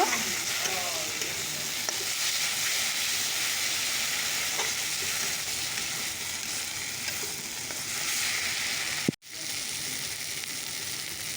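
Broth poured into a pan of nearly cooked spice masala sets off a steady, loud sizzle and hiss of frying that continues throughout, with a brief sharp cutoff near the end.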